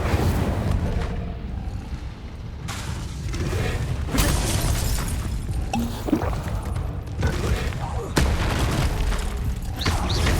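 Incendio fire spell cast in Hogwarts Legacy, a series of loud booming fiery bursts and crackling blasts over dense, continuous game sound.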